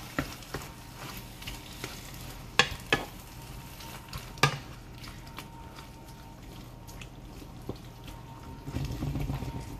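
Half a can of tomatoes being stirred into a homemade dip: quiet, intermittent spoon scrapes and a few sharper clicks against the container, with no talking.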